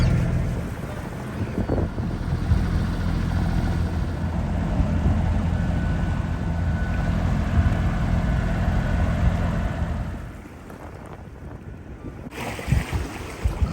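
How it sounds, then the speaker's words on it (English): A catamaran motor sails outside a harbour on its starboard engine alone with the mainsail up, giving a steady low engine drone mixed with wind and water rush that drops away and quiets near the end. "we're motor sailing just on the starboard engine with the main up"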